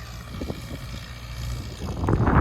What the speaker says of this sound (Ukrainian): Блін, ну на дворі такий вітер, я не знаю. Шумить.